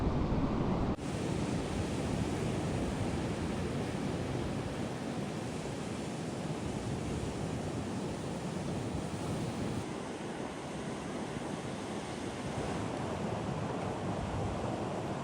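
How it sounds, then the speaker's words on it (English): Ocean surf at the Ponta do Ouro point break, a steady close roar of breaking waves mixed with wind buffeting the microphone throughout. "Ponta de Ouro is a well-known point break that offers consistent, long right-handed waves"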